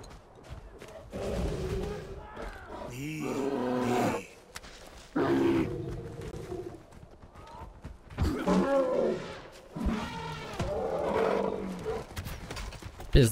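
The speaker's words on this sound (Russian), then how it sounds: "Слушай, это крутой мамонт." Mammoth in the Far Cry Primal video game gives deep roaring, trumpeting bellows in several bursts, loud and close, with game ambience running between them.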